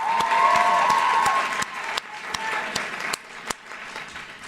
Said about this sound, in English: let's just hear one more giant round of applause for all of them